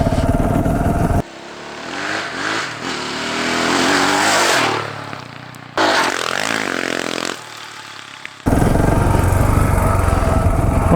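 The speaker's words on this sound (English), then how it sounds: "Sometimes I try to ride my 690 like it's my enduro bike or my 500, but it doesn't quite work that way" KTM 690 Enduro motorcycle engine while riding on steep hill climbs, loud and close with rising and falling revs and abrupt cuts between passages.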